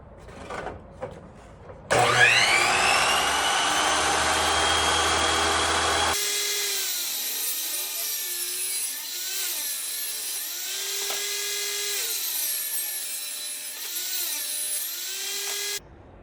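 A power saw cuts through pallet boards, a loud, steady whine lasting about fourteen seconds that shifts in pitch as the blade loads and frees up, with no talking.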